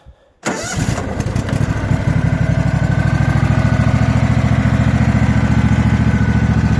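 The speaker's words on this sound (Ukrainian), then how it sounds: "Двигун працює рівненько, не димить, не коптить, взагалі ідеально." A small Husqvarna garden tractor mower engine cranks and catches, then settles into a loud, steady, even idle chugging that continues without a break.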